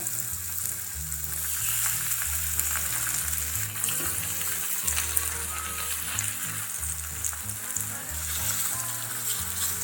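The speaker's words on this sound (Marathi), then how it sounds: "तर आता आपण फ्राय करायला घेऊया." Pineapple slices frying in a little oil on a hot tawa give off a steady, dense sizzle that carries on unbroken and fairly loud, with no voices.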